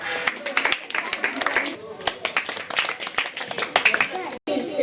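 A group of children claps together at a home motivation class, with rapid, close, rhythmic hand claps going on for several seconds and children's voices mixed in.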